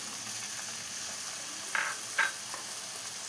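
Two chopped tomatoes cook in a pan of egg rice masala, a steady close sizzle with a couple of brief louder spatters and stirring scrapes, no talk.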